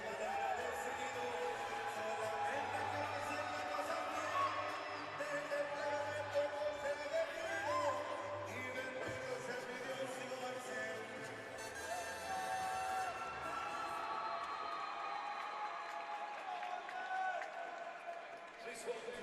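A crowd at a live submission grappling event roars and cheers continuously, a dense distant wash of voices and whoops that holds steady throughout with talk running over it.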